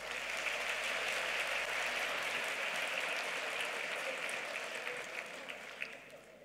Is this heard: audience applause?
yes